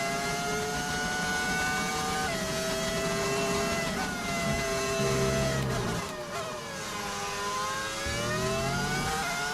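F1 25 car fitted with an aftermarket audio mod, a high-revving engine whine rising through gears, falling and sweeping back up on lift-off and acceleration, loud and steady with no talk.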